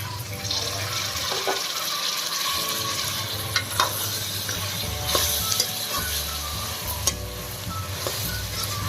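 Okra frying in a pan as tomatoes go in, with steady close sizzling, stirring scrapes and a few sharp clinks of utensils against the pan, no talking.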